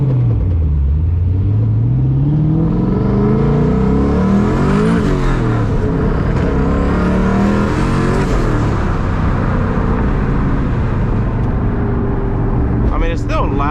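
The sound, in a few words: turbocharged SVT Cobra driving with new exhaust, turbo spool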